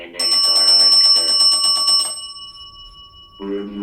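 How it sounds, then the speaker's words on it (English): A small bell is struck rapidly about fifteen times in an even, ringing burst with a sustained tone, close and loud in a haunted 1858 hotel, then fades before a brief voice at the end. "can you hit the bell again?"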